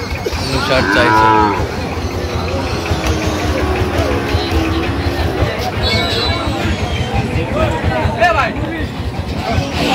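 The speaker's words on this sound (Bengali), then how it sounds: "শাহিওয়ালের ষাঁড় বাচ্চা।" A Sahiwal bull calf moos loudly at a busy cattle market, long drawn calls rising over a constant babble of crowd voices and nearby talk.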